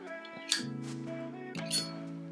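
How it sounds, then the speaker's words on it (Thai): A Zippo lighter, a Cactus Jack x Fragment collaboration model made in the USA, clinks as its metal lid flips open, two bright metallic snaps about a second apart over a faint background hum. "นี่คือเสียงของซิปโป"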